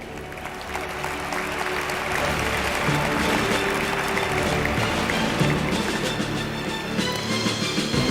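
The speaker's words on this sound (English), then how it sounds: "Let's give a round of applause for our Spider football team" Applause for the Spider football team at an awards event: sustained clapping from a large crowd, steady and continuous throughout.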